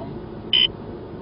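A single short, sharp electronic beep from a Cobra radar detector's Ka-band alert cuts in briefly over low in-car road noise.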